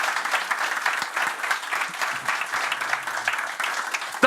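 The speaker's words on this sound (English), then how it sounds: "We have Michael from London, an applause." Audience applause at a cryptocurrency conference, a dense patter of many hands clapping steadily for a few seconds, fairly close and unbroken.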